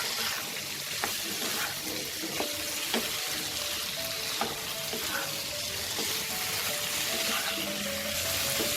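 Spices and fried potatoes stirred and fried in a pan for Bengali ridge gourd and mung dal curry, with a steady close sizzle and scattered spoon clinks and scrapes throughout.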